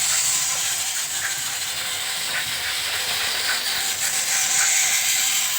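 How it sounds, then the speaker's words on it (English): A TOMY Steam Along Thomas toy train gives off a steady, loud hiss of released steam, with faint mechanical clicking and puffing from the running toy beneath it and no voices. "he's going to make a braking sound, stop puffing, and make one last cloud of steam"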